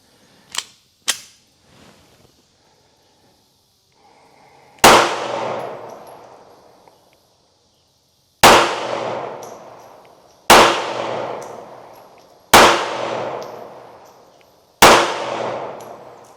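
Gunshots from a Hi Point JHP 45 pistol at a shooting range: two quick sharp cracks early, then five loud, separate reports with ringing decays, spaced about two seconds apart, and no talking.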